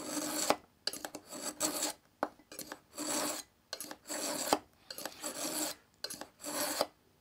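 A knife is drawn through a Smith's 2-step sharpener in about a dozen quick, rhythmic scraping strokes, each separated by brief silence, close and fairly quiet.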